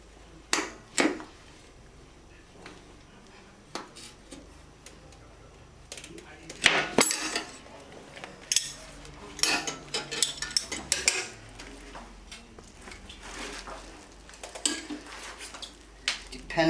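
Metal tire irons (spoons) working a tubed dirt bike tire on a No-Mar Classic changer, scattered clanks, scrapes and clicks at close range, irregular and sparse against a quiet background.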